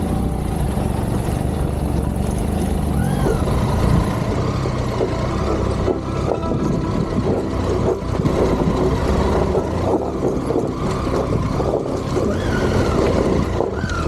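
A motorcycle rolls slowly down a narrow, steep, slippery gravel path in southern Colorado, with a steady low engine rumble and crunching, rattling gravel throughout, close and continuous.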